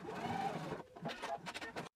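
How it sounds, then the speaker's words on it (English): A sewing machine stitches down both sides of an anorak casing, a steady close whirring run that pauses briefly and then starts again in short bursts before stopping abruptly. "Take it to the sewing machine and stitch down both sides of the casing."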